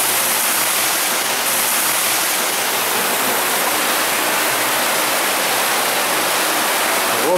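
The Sosenka, an underground river in Moscow, roars through a concrete sewer collector about 3.5 metres high, a loud, steady wall of rushing water that never lets up.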